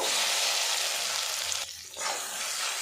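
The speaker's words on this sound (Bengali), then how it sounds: "অনবরত নাড়াচাড়া করে সয়াবিনটা কিন্তু আমি লাল লাল করে ভেজে নেব" Soybean chunks frying in hot oil while being stirred, giving a steady close sizzle with a brief dip in the middle before the hiss resumes.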